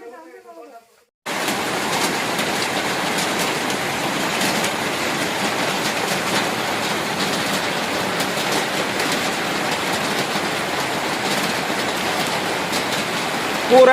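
Heavy rain pours down in a steady, dense roar that starts abruptly after a brief bit of talk and holds unbroken, close and loud, with a voice rising faintly at the very end.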